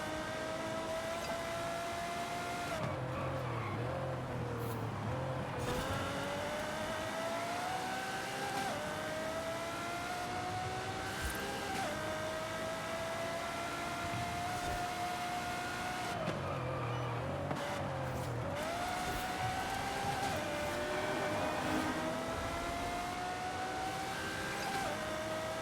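Lamborghini Huracán engine in the racing game Forza Horizon 5, a continuous high engine whine rising and dropping through gear shifts, sustained and loud throughout.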